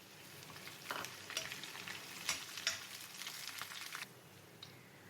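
Chopped green chilies hit golden frying onions in a pan, setting off a loud crackling sizzle with stirring scrapes that rises, then settles into a softer fry.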